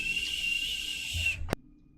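A voice imitates a faint whistling draft passing under a door in a corridor: a thin, steady, high whistle held for over a second, then a sharp click and quiet.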